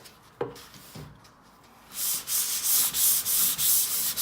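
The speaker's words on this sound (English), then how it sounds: "because we're using the long board, it's easier to get this panel smooth" Long-board sanding across a 1985 VW Jetta body panel: a couple of light knocks, then a run of steady, rhythmic back-and-forth rasping strokes, close and fairly loud.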